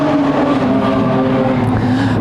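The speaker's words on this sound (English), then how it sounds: "A heavy field of production sedans in heat race number 2 is underway." Production sedan race cars, including a Ford Falcon, running in a heat race, a loud continuous engine drone with droning tones and slight pitch shifts, heard without commentary.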